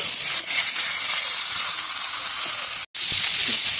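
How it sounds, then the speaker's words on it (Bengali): Vegetables for a chital fish recipe are sautéed in a pan, giving a loud, close, steady sizzle and hiss that is cut off for a moment near the end, with no talk. "কিছুটা একটু কষিয়ে নেব, সবজিটা একটু কষিয়ে নেব"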